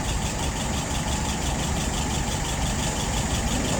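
A WO 636SA engine idles steadily at about 640 rpm, a continuous low rumbling drone with a faint rhythmic knock running evenly through the whole stretch, close and alone with no voices.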